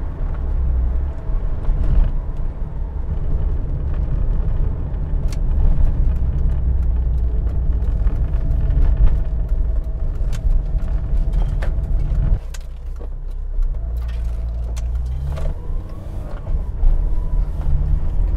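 Small Rover Metro with a K-Series engine driving along a narrow road, a steady interior engine drone with gear-change dips and occasional faint rattles, no talk.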